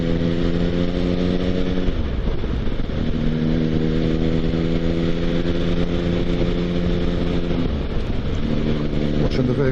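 A motorcycle ridden on a dusty road, accelerating up to about 60: a loud, steady engine drone with wind rush, dipping and climbing in pitch at two gear changes.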